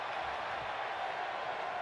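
A dense, steady roar from a wrestling video game arena crowd at an NXT Championship match, continuous and fairly loud throughout with no pauses.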